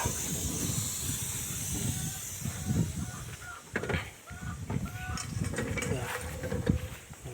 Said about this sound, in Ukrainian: І це колесо десь шипить.